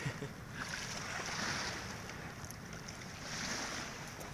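Sea waves wash onto an empty beach at sunset in a continuous, broad roar, with gentle surges swelling and receding and some wind noise on the microphone.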